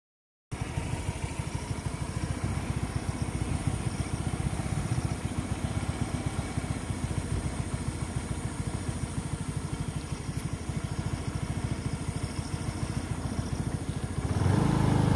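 A motorcycle rides along a road near a river on the way to school, its engine running steadily and loudly close by for the whole stretch with a rough, throbbing tone, rising a little at the very end.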